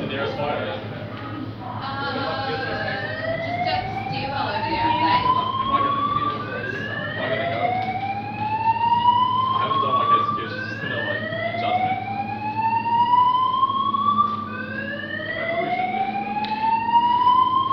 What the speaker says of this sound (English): I think it's a standard Pertronics fire alarm.